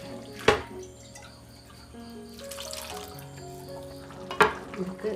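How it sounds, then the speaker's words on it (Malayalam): Water splashes into a pan of raw plantain pieces for a mutton boti curry, two short pours with soft bubbling and clinking in between, close and fairly quiet. "കായ വേവാൻ ഇത്തിരി വെള്ളം ഒഴിക്കണം"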